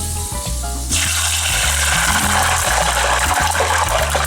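Water sprinkled into hot cooking oil heated for frying breaded chicken bursts into a sudden loud sizzle about a second in and keeps crackling, with low rhythmic thumps beneath.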